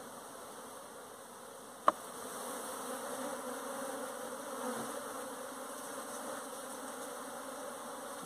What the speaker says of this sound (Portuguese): Muita abelha, viu?